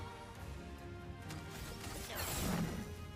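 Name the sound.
ground smash attack in video game Clair Obscur: Expedition 33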